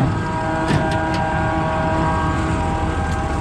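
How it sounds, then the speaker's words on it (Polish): A combine harvester's straw chopper runs during rapeseed harvesting, giving a steady, loud mechanical drone with constant tonal whine and a few brief rattles throughout. "robimy test sieczkarni"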